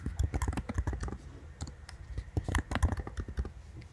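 Quick, uneven clatter of keystrokes on a computer keyboard, a close run of crisp clicks with short pauses between bursts, heard alone without speech.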